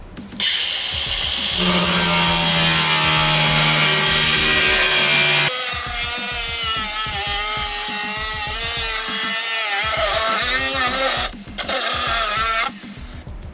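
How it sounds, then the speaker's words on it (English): Scrap metal plate being cut for a pedal platform on a 1950 Buick build, heard as harsh, continuous power-tool cutting with shifting pitch and brief breaks, loud and close, with no talk. "I have some scrap metal I'm going to cut down to use for the platform"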